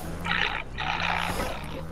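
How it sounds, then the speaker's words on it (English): A growling wolf in a video game, two sustained rumbling snarls with a short break between them, loud and close, with no talk over it. "I'm going with the wolf."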